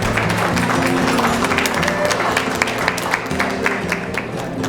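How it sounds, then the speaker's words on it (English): An audience applauds the Heritage Committee at a golf club presentation, a steady wash of clapping from a crowd indoors that carries evenly throughout. "I'd like to give them a round of applause"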